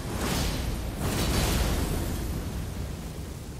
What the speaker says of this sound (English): Yeah, you do that explosion.